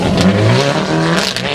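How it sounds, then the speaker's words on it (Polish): Peugeot 307 WRC rally car on a gravel stage at a city rally event, its engine loud and revving hard at close range, with a steady roaring pitch over a short burst. "W tym wielorybie, czyli w Peugeotie 307 WRC, tym autem wygrywali dwie ostatnie edycje."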